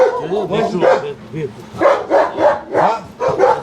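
A dog barks repeatedly nearby in a rhythmic series of sharp, loud woofs with short gaps between them, mixed with whiny yips, while people talk in the background.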